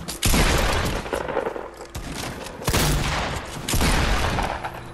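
Gunfire in a console shooter game: loud, sustained automatic weapon bursts and booms nearly filling the clip, with brief dips between volleys.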